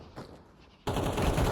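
Gunfire in the video game Counter-Strike 2: after a quiet stretch with faint scattered noises, a loud, sustained burst of automatic weapon fire erupts and continues to the end.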